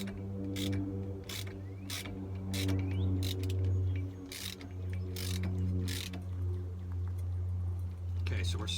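A torque wrench ratcheting on the front hub nuts of a Jeep Wrangler JK during a wheel bearing hub change: repeated short metallic clicking bursts in an irregular rhythm, close up, over a low steady hum, with a voice speaking now and then.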